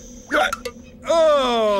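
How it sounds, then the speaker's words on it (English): A female cartoon character gives a sharp, close hiccup, then follows it with a long, wavering voiced sound. "How is she ever gonna get rid of those hiccups?"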